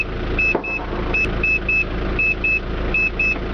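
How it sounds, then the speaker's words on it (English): Paired electronic beeps repeat in a steady rhythm over a continuous low motor hum, close and fairly loud, as the electric pop-up roof of a Mazda Bongo 2.5 turbo diesel camper van raises. "you listen to the beeps, and you can hear the roof go up"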